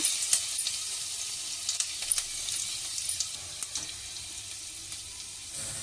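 Cumin and grated garlic frying in oil in a pan: a soft, steady sizzle with small scattered crackles and pops, without talk.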